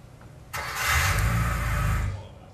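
Car engine in the PlayStation 1 rally game Rally Cross, played through an emulator: a sudden engine start that rises into a loud, steady rumbling rev with hissy noise, then cuts off abruptly.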